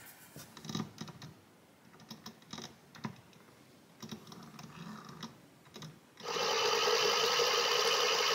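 A homemade pickup coil winder's small motor spins up after some clicking and handling noises, then runs with a steady, loud, even whine for the last couple of seconds.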